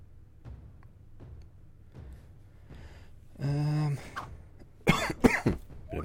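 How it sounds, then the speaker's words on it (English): A single cough with throat clearing rings out clearly over a quiet background of soft taps and thuds, followed by a few more short bursts. "bit of a cough, sorry."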